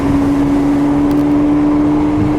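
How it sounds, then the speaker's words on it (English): A loud, steady engine drone with a strong low hum, a 2022 Porsche 911 GT3 Touring (992) cruising in sport exhaust mode with a throaty exhaust note and no speech. "we're in sport exhaust. Yeah, it sounds good."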